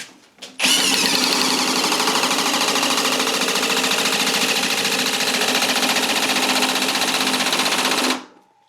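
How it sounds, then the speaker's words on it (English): A RIDGID Gen5X Stealth Force 18V brushless oil pulse driver on power mode 3 drives a screw into a post, a loud, close, rapid pulsing buzz that starts abruptly, holds steady for about seven seconds, then stops. "the first one we're going to use the Stealth Force on speed or power mode 3"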